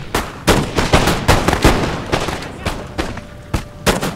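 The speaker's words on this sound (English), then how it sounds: "These rifles are about to start opening fire on my friendly Ottoman." Rifle volley fire in Napoleon Total War, a multiplayer battle with British line infantry firing on Ottoman troops. Loud, sharp musket cracks come in ragged, overlapping bursts that rattle on and off.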